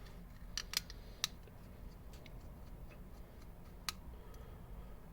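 Small screws on the handle scales of a Boker Kalashnikov knife being loosened, a scatter of sharp metallic ticks and clicks at irregular intervals, close and quiet over a low background hiss.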